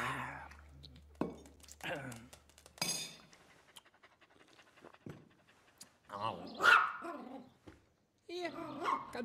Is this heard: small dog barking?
yes